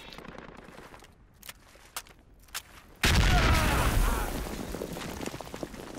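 Gunfire in the infantry shooter Project Reality: a few sharp isolated shots early, then a sudden heavy burst of sustained automatic fire and booming blasts that stays loud and dense to the end.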